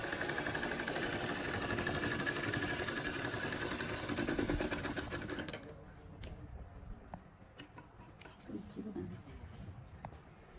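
A sewing machine stitches lace onto a suit with pintucks, running as a fast, steady whirr with a fine ticking rhythm for about five seconds, then stopping and leaving quieter low shuffling sounds.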